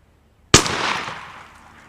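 A single loud shotgun blast, Mossberg or Browning, fired outdoors: a sharp sudden crack followed by a long, gradually fading rumble and echo lasting over a second, with no talk over it.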